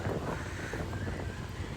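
Strong wind blusters across the microphone beside a full reservoir on a motorbike ride, a loud, continuous low roar and buffeting with no pauses.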